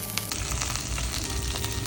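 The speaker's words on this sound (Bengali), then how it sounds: "একটি ফ্রাই প্যানে সরিষার তেল দিয়ে তাতে আগে থেকেই হলুদ, লবণ, মরিচ দিয়ে মাখিয়ে রাখা মাছগুলো দিয়ে দিলাম।" Rohu fish pieces coated in turmeric, salt and chili crackle in mustard oil in a frying pan, a close, continuous sizzle with quick pops and no voices.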